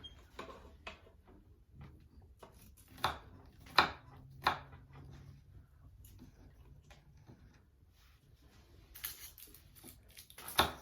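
Garlic being chopped with a knife on a cutting board in a home kitchen, heard as a few sharp, close knocks and taps spaced irregularly over low background noise.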